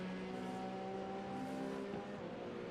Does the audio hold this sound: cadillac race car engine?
yes